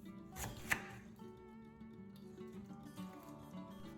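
A knife slices the top and bottom off a pineapple resting on a cutting board, giving one sharp chopping thud near the start followed by quieter scraping and cutting noises, close and alone with no talk.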